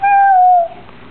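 A young child imitates a cat's meow with a single drawn-out, falling vocal cry, close and clear, which fades into quiet room sound.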